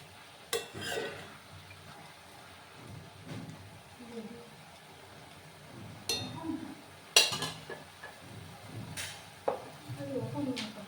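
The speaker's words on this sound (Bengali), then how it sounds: "আমি আবার নাড়াচাড়া করে দিলাম।" Papaya chutney being stirred in a pan, a spoon scraping and clinking against the metal in scattered bursts over a soft, quiet background, close to the listener with no talk.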